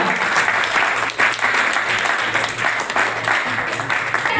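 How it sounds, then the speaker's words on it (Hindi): Loud, sustained audience applause at a talent show for people with disabilities, dense continuous clapping from a large crowd close by, with a low hum underneath. "जोरदार तालियां।"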